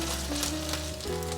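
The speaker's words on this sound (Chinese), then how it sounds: "来翻面煎" A pancake sizzles in a hot pan just after being flipped, a close, continuous frying hiss with no voices.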